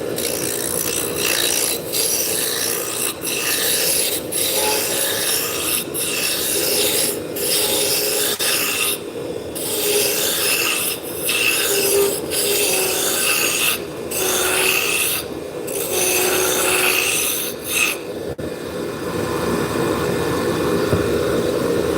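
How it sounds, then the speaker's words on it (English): A roughing gouge cuts wood on a woodworking lathe, giving a continuous loud scraping rasp broken by short rhythmic pauses as the tool is lifted and repositioned. "Take the roughing gouge and just start taking material off."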